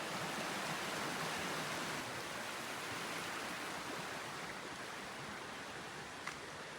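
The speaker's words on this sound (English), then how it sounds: "Aside from the water rushing over here, you can't hear any soul." Steady rush of stream water near a quiet cemetery in Wakayama Prefecture, a broad, even hiss of flowing water with no other sounds breaking through.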